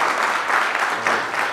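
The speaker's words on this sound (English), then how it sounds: "Can we get a round of applause?" Brief burst of applause from the audience after a conference talk on automating system compliance with Ansible, steady and fairly loud for its short span.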